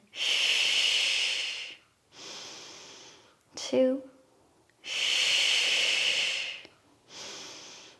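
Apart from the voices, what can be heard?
deep breathing in and out during exercise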